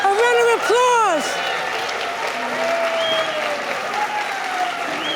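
A musical theater audience applauds steadily in a continuous wash of clapping after a hand-toss act, while a voice talks over the start and whistly tones sound on top.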